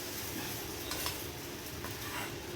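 Rice batter for chitoi pitha poured into a hot clay mold gives a soft, even hiss and faint sizzle, quiet and continuous, with a couple of light scrapes.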